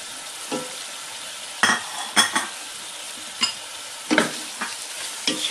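Chicken wings halved and added to onions already frying for paella, a soft steady sizzle broken by sharp spatula scrapes and clinks against the pan, close and without speech.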